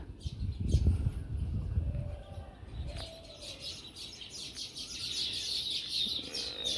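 Sparrows nesting in a two-storey nest chirp in quick, light high-pitched bursts, faint to moderate, over a low rumbling background that fades after the opening seconds.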